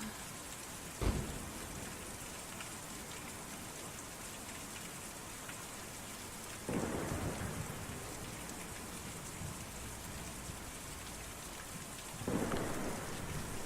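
Steady rain pours throughout a stormy scene in the game Kentucky Route Zero, broken by three deep thunder cracks that roll and fade, roughly evenly spaced, with no voices.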